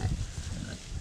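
Pig on a farm, newly arrived livestock, grunting and squealing briefly as it touches an electric fence, a short noisy burst close by with low rumbling.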